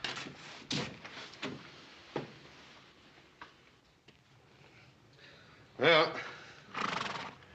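A horse in a Western desert scene lets out loud whinnies near the end, after scattered hoof clip-clops and rustling, fairly close.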